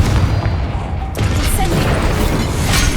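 A Confringo fire spell fired in the game Hogwarts Legacy bursts with a loud, booming blast over a dense, continuous wash of game noise.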